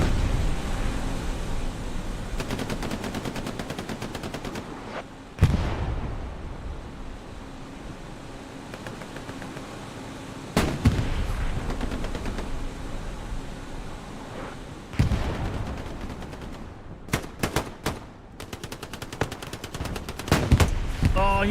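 Repeated bursts of rifle and machine-gun fire from the Hell Let Loose World War II shooter, loud and close with sharp cracks and rattling volleys at irregular intervals, some sustained automatic strings, over a steady rumbling battlefield backdrop.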